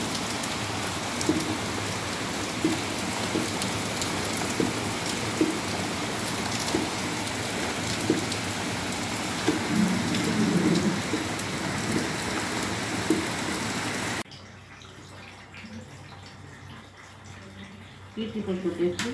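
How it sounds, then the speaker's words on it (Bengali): Heavy torrential rain pours steadily in a broad, dense wash for most of the stretch, with voices talking over it, then drops abruptly to a much quieter background near the end. "মুষলধারে বৃষ্টি হচ্ছে।"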